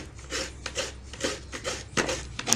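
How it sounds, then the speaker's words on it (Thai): Coconut flesh is scraped on a traditional Thai rabbit-shaped coconut grater, with rhythmic rasping strokes about twice a second, close and distinct, with no talking. "การขูดมะพร้าวด้วยกระต่ายครับ"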